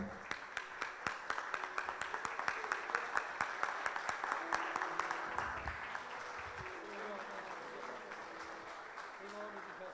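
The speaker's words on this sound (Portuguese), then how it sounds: "E dá uma salva de palmas para Jesus." A church congregation bursts into applause, a dense, loud wash of many hands clapping that runs steadily through the whole stretch and tapers slightly near the end, with voices talking under it.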